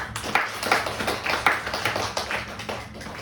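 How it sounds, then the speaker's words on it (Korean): A church congregation claps together in a steady, even rhythm of sharp beats, sustained and moderately close, with no talking over it. "우리 하나님께 감사와 영광의 박수 한번 드리겠습니다"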